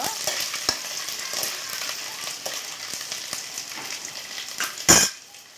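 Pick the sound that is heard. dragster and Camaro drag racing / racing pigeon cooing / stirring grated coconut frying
stirring grated coconut frying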